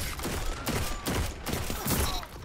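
Rapid bursts of gunfire from Destiny 2 player-versus-player combat crack out in quick clusters, several sharp shots in a row with short gaps between volleys, fairly close and loud.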